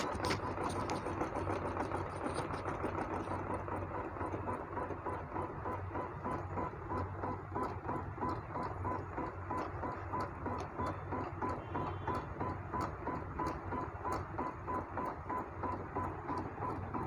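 A Janome 8200 embroidery machine stitching a flower with silky thread, a steady fast mechanical rattle of needle strokes with a constant motor hum, running continuously and evenly throughout.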